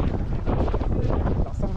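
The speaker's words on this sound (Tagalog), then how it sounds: "Taas ang hangin dito." Strong wind buffets the microphone in a steady low roar, loud and close, with people talking underneath, at a tourist spot in Alaminos, Pangasinan.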